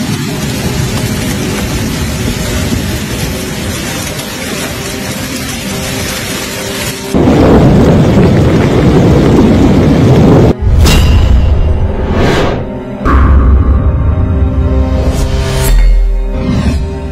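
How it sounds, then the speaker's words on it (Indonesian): Ice hail pours down hard in Saudi Arabia, a loud, dense hiss of pellets striking surfaces that grows heavier midway, then gives way to sharp cracking impacts and booming gusts. "Turun hujan butiran es kristal."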